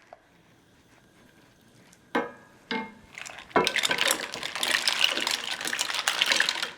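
After a quiet start, a couple of clattering tips land in a pan, then a loud, bright rushing sizzle as the shellfish hit the hot surface and keep hissing steadily, with no talking.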